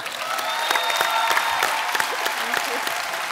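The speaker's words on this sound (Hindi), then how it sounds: "भारत श्रीलंका के प्यार के लिए बहुत बहुत तालियां." Studio audience at a taping of The Kapil Sharma Show, a Hindi comedy talk show, bursts into sustained, dense applause at close range, with voices faintly mixed in beneath the clapping.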